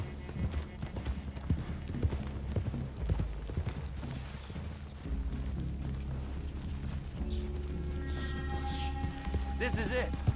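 Horse hooves clip-clop steadily over a rumbling game soundtrack in Red Dead Redemption 2, with voices talking over the movement.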